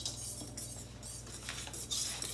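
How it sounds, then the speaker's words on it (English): A whisk beats chocolate lava cake batter in a bowl in a few quick, light metallic strokes with faint clinks against the side, close and brief. "Give it a little bit of a whisk."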